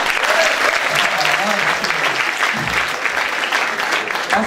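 A crowd at a gala claps enthusiastically, loud sustained applause with a faint voice over it, fading slightly toward the end.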